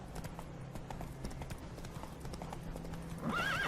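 A horse galloping in the video game The Witcher 3, steady rapid clip-clop hoofbeats under game ambience, ending with a neigh near the close.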